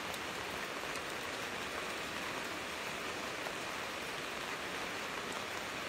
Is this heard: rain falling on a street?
yes